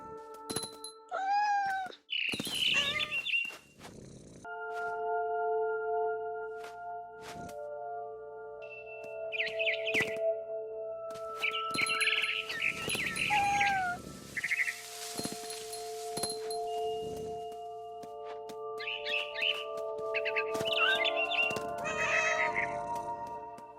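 A cat meows repeatedly in the video game What Remains of Edith Finch, several drawn-out and rising cries spread across a steady ambient drone, near and clear, with a few soft thumps between calls.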